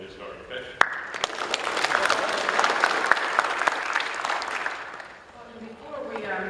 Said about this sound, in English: let me give a round of applause